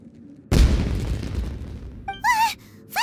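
Fireworks burst in Genshin Impact's Inazuma region, one loud booming blast that trails off into a rumbling decay, followed by short game voice sounds.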